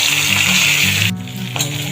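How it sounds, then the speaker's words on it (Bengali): Hilsa fish heads fry in hot oil with a loud, close, crackling sizzle that drops suddenly near the midpoint and then resumes more quietly, with a low hum underneath. "এই যে ইলিশ মাছের মাথাগুলো ভেজে নিই।"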